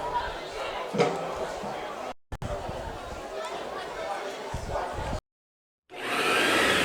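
A vacuum cleaner in a radio ad: a steady whooshing motor drone under crowd chatter, broken by brief silences, then a loud, even motor roar that starts abruptly and runs to the end.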